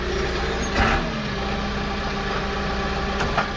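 A tractor engine idles on the first day of a wheat harvest, a loud, steady low diesel rumble close by with a brief surge near the start and no talking.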